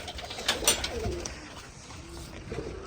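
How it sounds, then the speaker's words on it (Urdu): Pigeons cooing in a loft housing breeding pairs, soft repeated coos with a few wing flutters, fairly faint and close, with no talk. "جوڑوں والے کبوتر ہیں"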